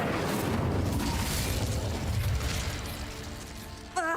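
The Incendio fire spell going off in the Hogwarts Legacy video game makes a loud, sustained whooshing roar of flame that slowly fades, ending with a short sharp sound; no speech.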